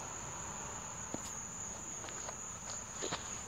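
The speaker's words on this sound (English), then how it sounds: "Also bugs too." Crickets and other insects chirp outdoors on a dark night in a steady, high, continuous trill that stays fairly faint, with a few soft taps and footstep-like sounds scattered through it and no talking.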